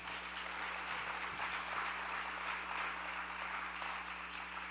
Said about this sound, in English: We want to give a round of applause to everybody at Memorial Hall.